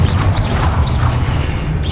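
Confringo blasting spell explosions in the Hogwarts Legacy video game, a dense continuous rumble with repeated whooshing bursts, loud and close throughout.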